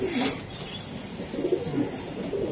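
A racer pigeon coos in soft low repeated calls at close range, several throaty notes spread across the clip over a light background hum.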